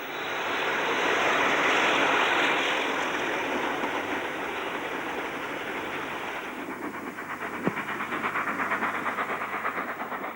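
A 13-vehicle train from Poole to Bournemouth Central, banked by a Sulzer Type 3 diesel, rumbles past with a steady, broad roar that swells early and then eases, with a rhythmic clatter of wheels near the end.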